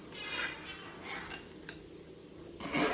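A spoon scrapes and clinks in a bowl as chocolate chips are stirred into cookie dough, several close scraping strokes with light taps, no talking.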